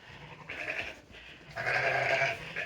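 A sheep bleats twice nearby, two short wavering calls separated by a pause, with no talking over them.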